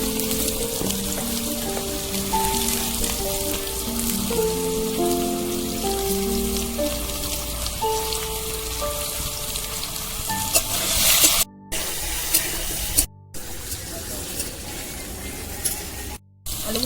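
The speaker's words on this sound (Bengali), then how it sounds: "এবার আলুগুলো ভেজে করে ভেজে নেবো" Potato pieces seasoned with salt and turmeric fry in hot oil, village style, giving a continuous crackling sizzle beneath a melodic music track, with a few brief dropouts.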